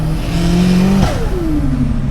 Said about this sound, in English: Like all you hear is turbo noise.